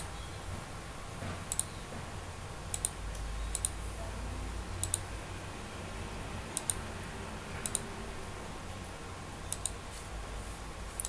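Sharp, quiet mouse clicks come singly and in quick pairs at irregular intervals while edges of a building are selected in structural design software, set against a faint, steady room hum.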